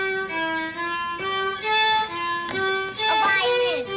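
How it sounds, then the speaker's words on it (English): Bowed violin notes sound alone, close and clear, as a short melodic phrase of sustained tones that step from one pitch to the next, ending with a few quicker slides. "Yeah, that's a violin, right?"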